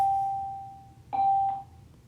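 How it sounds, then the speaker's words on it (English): A doorbell rings indoors, a clear sustained electronic tone followed by a second brighter chime that fades out. "Sorry about the bell."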